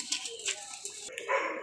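Domestic pigeons give soft, low cooing calls close by, quiet and brief, with someone speaking over them.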